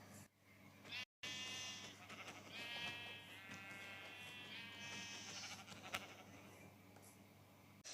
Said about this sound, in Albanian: vetëm një dele